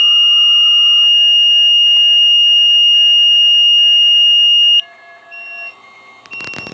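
An audible alarm on an Arduino-built SWR monitor sounds a loud, steady electronic beep tone for several seconds, then cuts out, leaving a quieter tone and faint clicks.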